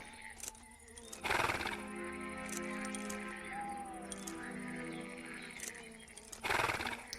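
A horse neighs and whinnies at length over a steady swamp soundscape in the video game Sword Legacy: Omen, with a few sharp thuds near the start and end.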